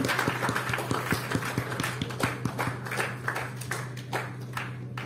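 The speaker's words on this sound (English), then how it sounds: "a big round of applause to all the parents here" An audience at a success meet applauds the parents, a moderate, dense patter of many hands with sharper individual claps standing out, heard from a little distance over a low steady hum.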